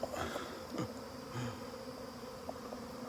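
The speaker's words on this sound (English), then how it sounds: "This is a pretty big swarm, you guys." A large honey bee swarm fills the air outdoors with a dense, constant buzzing hum, individual bees whizzing past close by over the steady drone.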